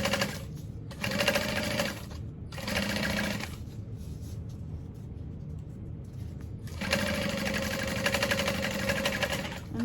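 Sewing machine top stitching waterproof canvas, three bursts of rapid, close mechanical whirring separated by quieter pauses, the last run longer and steady.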